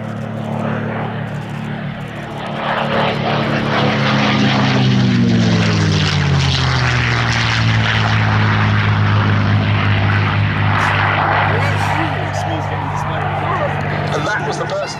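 A P-51D Mustang propeller fighter painted as Jersey Jerk flies past at a D-Day anniversary air display at Duxford, its loud, steady piston-engine drone swelling and then falling in pitch as it passes, with a commentator talking over it.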